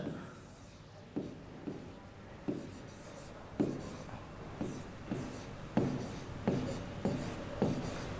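Marker writing on a board during a physics class on thermodynamics, a steady series of about a dozen squeaky scratching strokes in regular rhythm, close and clear, with faint speech in the background.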